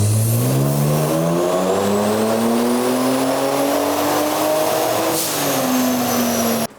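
A Kia Stinger tuned with a JB4 on map 6 and E50 fuel, revving hard in 4th gear on a dyno, with the loud engine note climbing steadily in pitch and holding near and continuous for several seconds before a brief dip and cutoff.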